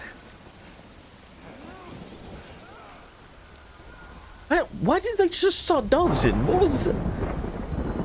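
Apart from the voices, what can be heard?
rain and thunder in the video game Death Stranding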